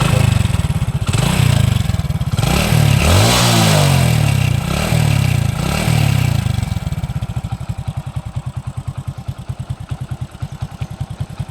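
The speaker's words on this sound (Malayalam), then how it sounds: "ഇനി വണ്ടി ഒന്ന് സ്റ്റാർട്ടാക്കിയിട്ട് അതിൻ്റെ സൗണ്ട് ഒന്ന് കേട്ട് നോക്കട്ടെ" A Hero Splendor motorcycle engine runs loud and close, revving in a few surges before settling into a steady, thumping idle.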